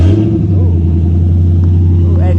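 V8 car engine with mufflers idles and revs close by, a deep steady throaty rumble swelling slightly, while people talk over it.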